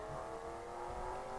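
A car engine in the Exion Hill Racing video game drones steadily at moderate level, a continuous low hum with no distinct revs or pauses, under faint background noise.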